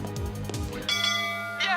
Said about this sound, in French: Sonne la cloche.